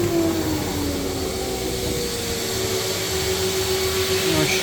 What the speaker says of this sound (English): I should turn off the vacuum bed.